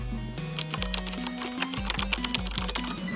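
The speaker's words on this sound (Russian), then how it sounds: "Я говорил про то, что это моя новая клавиатура." Rapid, uneven clatter of keys on a new computer keyboard, close and crisp, with steady low tones humming underneath and no voices.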